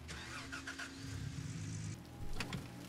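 A truck in the mining game Gold Rush: The Game pulls away, its mid-pitched engine rising and humming steadily before surging louder near the end, with no voices over it.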